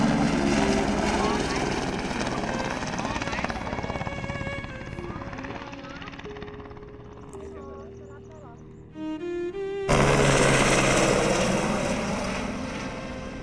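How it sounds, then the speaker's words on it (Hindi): A helicopter flies close to a mountain ridge in the Mardi Himal area, its rotor a loud, continuous throbbing drone that fades somewhat before surging loud again, with a voice speaking over it. "जब हेलीकॉप्टर को रिज के इतने करीब उड़ते देखा"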